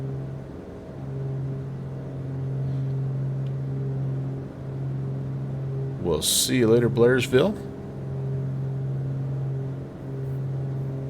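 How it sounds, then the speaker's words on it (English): A Beechcraft Duke 60 engine drones steadily in a flight simulator game, a constant low hum running under a man's radio-style talk that briefly rises over it midway. "Engine's too loud? I know it sounds amazing, but I just want to make sure you can hear me."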